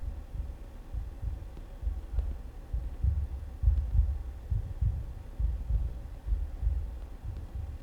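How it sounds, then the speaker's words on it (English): Heartbeat in the horror video game LIMINAL CORE, low thudding pulses repeating steadily over a droning hum, close and prominent, with no talking. "Are we hearing that heartbeat?"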